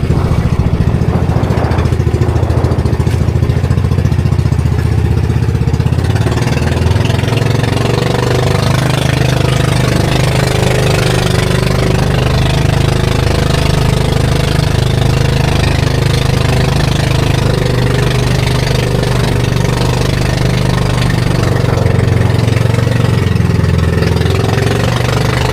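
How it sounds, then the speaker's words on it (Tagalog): A boat's outboard engine, just repaired, runs steadily and loudly up close on the open sea, a continuous droning rumble that holds without pause and with no voices. "Inayos na yung makina niya, tapos umandar na sana mga amigo."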